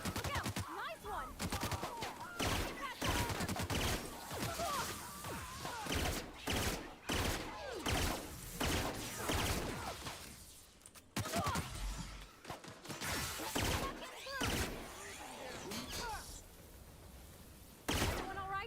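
Gunfire from the video game The Outer Worlds, with repeated bursts and single shots crackling throughout amid game sounds, fairly quiet, with occasional voices over it.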